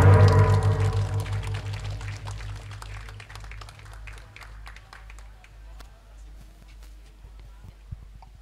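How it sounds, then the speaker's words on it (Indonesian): An audience applauds at a school environmental programme launch ceremony in Cirebon, with scattered hand claps fading off after a loud tonal opening, moderately distant in a large room. "boleh tepuk tangan untuk kita semuanya"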